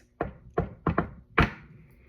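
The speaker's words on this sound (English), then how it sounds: "And he knocks." A storyteller's door is knocked on four times, each a hollow, close thunk. The first three come at a steady pace and the fourth lands harder after a short pause. No voices are heard.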